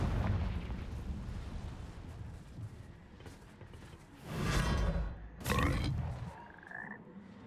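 The Confringo fire spell in Hogwarts Legacy goes off as two loud bursts about a second apart, following a stretch of rumbling game ambience and ending with a short fading tonal sound.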